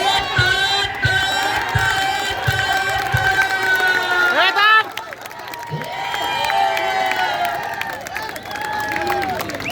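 A large crowd at a wrestling competition final in Dhayari, Pune roars and cheers continuously, loud and sustained, with a surge of shouting and scattered clapping throughout.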